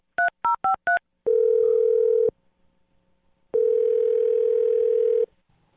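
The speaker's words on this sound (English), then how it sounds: "All right, Andy, I'm going to dial her phone number right now." Four quick touch-tone keypresses of a phone number being dialed, followed by two long steady ringback tones separated by a pause, clear and close with no talking.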